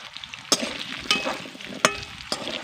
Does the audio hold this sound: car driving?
no